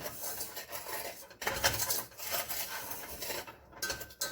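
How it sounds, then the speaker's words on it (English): Strawberry pie filling is stirred in a bowl, giving soft scraping and rubbing strokes with occasional utensil taps, moderately loud and close, in bursts separated by brief pauses. "let's kind of stir this up just a little bit"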